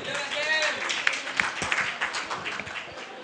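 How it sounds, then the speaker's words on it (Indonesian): A crowd applauds for Dwi Larso of SBM ITB at the Malam ITB KITA gathering: a dense, steady patter of clapping with a few sharper claps standing out, and voices mixed in. "Tepuk tangan juga untuk Pak Dwi Larso dari SBM ITB"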